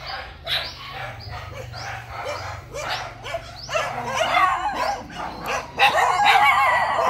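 Several dogs barking at a rural Vietnamese home where elderly sisters live, a busy chorus of overlapping barks and yips close by that grows louder toward the end, with a steady low hum underneath.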